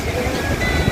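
Fairly large afternoon waves at Gondariah Beach in Pariaman, West Sumatra, making a brief, continuous broad wash of surf mixed with wind rush, loud and unbroken.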